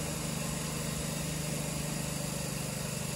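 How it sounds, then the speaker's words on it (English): An air compressor runs in a home garage workshop, a steady low mechanical drone with a faint even pulse, held constant and fairly quiet throughout without speech. "Is the compressor on? I just heard it fire up,"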